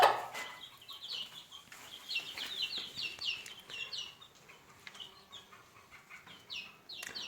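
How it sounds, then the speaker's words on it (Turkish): Three-day-old Gurk chicken chicks in a cage peep in bright, repeated chirps, with occasional soft clucks and brief wing flutters, fairly close and quiet, with no talking. "Evet arkadaşlar biraz daha civcivlerimize bakalım."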